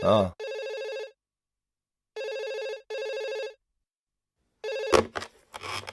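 A telephone rings in three evenly spaced bursts, each a pair of ringing pulses, loud and close, with someone speaking briefly at the start and more voices breaking in at the end.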